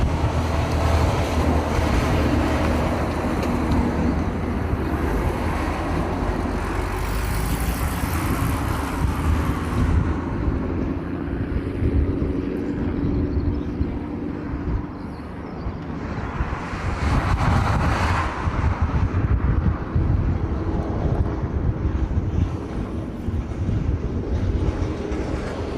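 An Alaska Airlines jet arriving from San Jose on runway 8 left, a broad steady roar heard outdoors through heavy wind buffeting, swelling twice as it passes, with road traffic blending in below.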